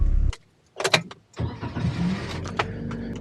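A Toyota TownAce camper van pulls away from an Aeon store car park: a short engine burst, then a pause, then the engine picks up again and runs steadily, close and moderately loud with no talking.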